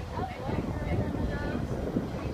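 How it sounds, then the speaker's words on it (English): A freight train rolls past at Dallas Union Station, a continuous low rumble with wind buffeting the microphone and a muffled voice underneath. "A freight train?"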